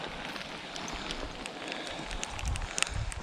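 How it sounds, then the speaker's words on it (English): Rain patters steadily in a soft, dense crackle of drops, with a few slightly louder taps near the end and no voices. "The sound of pitter-pattering of rain"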